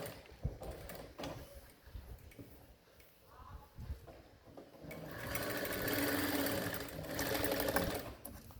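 A sewing machine runs a center line of stitches on a blouse, quiet handling of cloth and small clicks first, then a steady, close mechanical whirr of rapid stitching for the last few seconds.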